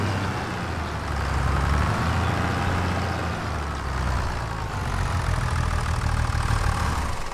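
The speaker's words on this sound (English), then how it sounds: "we can move the tractor over here" Tractor engine in the Farming Simulator 25 video game, running steadily at a low idle with a constant rumble and no break across the whole stretch, close and fairly loud.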